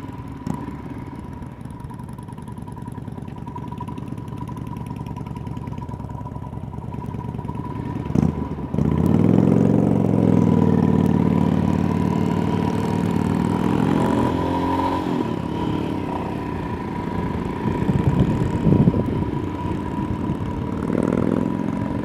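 A Royal Enfield 650 twin motorcycle runs outdoors, a steady idle hum that swells into a louder revving pass midway before easing and rising again, heard at moderate distance.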